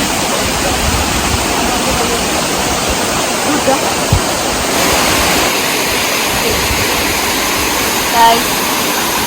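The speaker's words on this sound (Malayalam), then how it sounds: "വെള്ളച്ചാട്ടം" A loud, constant roar of rushing water from a waterfall fills the scene, steady and close, with a brief spoken word partly lost under it.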